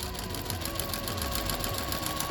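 A sewing machine stitches a fabric face mask cover, its motor whirring in a steady, continuous run with a fast, even needle rhythm, close and alone.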